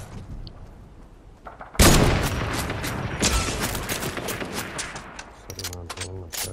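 Gunshots in Fortnite, a sudden loud blast followed by dense bursts of shooting and impacts, with someone talking over parts of it.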